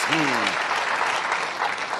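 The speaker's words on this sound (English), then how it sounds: "you can applaud for our band" A 1972 late-night television studio audience applauds the show's house band, a dense, steady wash of clapping that fills the whole moment, with a brief voice at the start.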